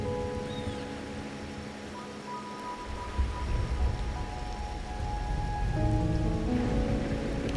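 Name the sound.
rain falling in Wuthering Waves video game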